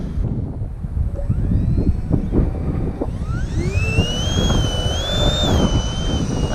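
FMS SuperEZ RC plane converted to an electric ducted fan, taped on, flying on its maiden flight outdoors; a rising, whining fan tone sweeps upward as the plane climbs, steady and fairly close over wind buffeting on the microphone.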